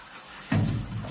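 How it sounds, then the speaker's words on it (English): Water suddenly rushes through a 6-inch clay sewer pipe during a flush, starting as a loud, low, turbulent surge midway and continuing as a steady hollow gush. No voices. "That will roll down the line as we flush and run more water"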